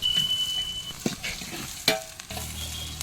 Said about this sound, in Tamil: வெங்காயம் சேர்த்துக்கலாம் நல்லா வதக்கு வெங்காயம் நல்லா வதங்கணும்